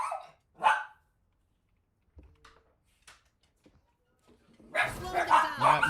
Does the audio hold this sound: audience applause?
no